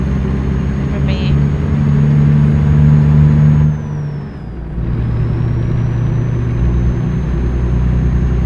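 A 600-horsepower truck rig in American Truck Simulator labours up a hill, its engine giving a steady, loud low drone that briefly dips and thins before settling back into a heavy hum.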